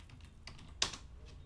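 Typing on a computer keyboard during a spreadsheet data analysis session, a few faint scattered key clicks with one sharper tap, quiet and close.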